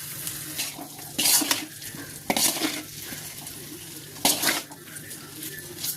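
Taro root roast cooks in oil in a pan, a steady low sizzle with several louder bursts of stirring and scraping close by.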